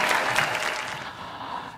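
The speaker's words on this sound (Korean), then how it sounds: "이때 박수 짝짝짝 좀 넣어주세요" Steady applause from an audience after a speaker jokes about topping a 14-person vote, a dense even wash of many hands clapping that thins slightly toward the end, with no voices.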